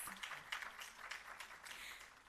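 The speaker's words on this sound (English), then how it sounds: "Give yourselves again another round of applause." Graduates of a restorative justice facilitator training receive a round of applause at their graduation ceremony, quiet, dense clapping heard from a distance.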